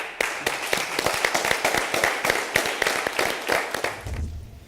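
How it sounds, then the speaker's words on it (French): A studio audience at a French televised cooking contest claps together for the contestants, a dense, lively round of applause that holds steady for several seconds before cutting off abruptly. "On les applaudit"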